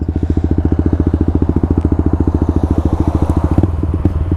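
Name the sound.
motorcycle revving and shifting through gears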